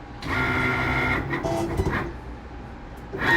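A Cricut cutting machine whirs and clicks as it draws on a shaker greeting card with a pen, its motor running in short bursts with pauses and shifting carriage movements close by.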